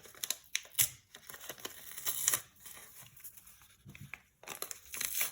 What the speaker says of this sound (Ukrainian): Ладно, порвався пакетик